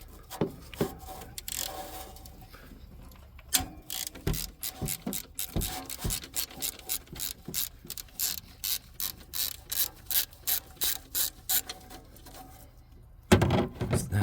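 A ratchet loosens the 10 mm nut on the positive battery lead of a 2013 Toyota RAV4 2.5, giving rapid, close clicking bursts in a steady rhythm with short pauses between swings.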